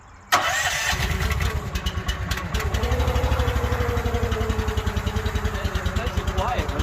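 A log splitter's small engine fires up abruptly after a brief quiet, then settles into a loud, steady, rapid chugging with a slight rise in pitch as it revs, close and continuous.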